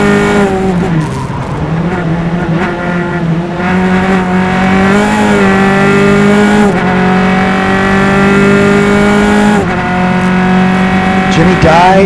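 Single-seater race cars in an SCCA club race at Mid Ohio, engines droning loudly and steadily as they run close together past the line, with a commentator talking over the engine noise throughout.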